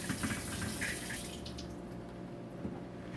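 Tap water runs steadily over canned beans being rinsed in a sink, a continuous close splashing wash with a brief burst of clatter near the start.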